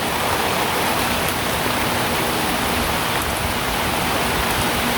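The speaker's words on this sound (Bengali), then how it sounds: "ঝড়ি বৃষ্টি সব সমানে শুরু হয়েছে।" A village storm of wind and heavy rain beats down in a constant loud wash of noise, close and unbroken, without any voices.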